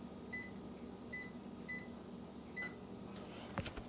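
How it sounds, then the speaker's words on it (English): A kitchen oven being set to preheat to 475 degrees gives four short, clear electronic beeps at even spacing, followed by a click, all over a quiet background hum. "I'm going to preheat the oven to 475 degrees."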